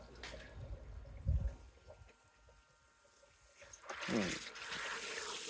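A Flextail tiny portable shower sprays water on its high-power setting. A quiet trickle and a few soft knocks give way to a louder, hissing rush of spray near the end.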